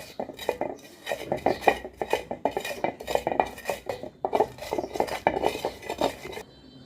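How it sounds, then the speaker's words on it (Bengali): Chilli and chopped onion being mixed for a mashed bhorta, a quick run of rhythmic clinks and scrapes of a utensil against a metal bowl, close and fairly loud with no voices. "পেঁয়াজটা মিক্স করে নিলাম।"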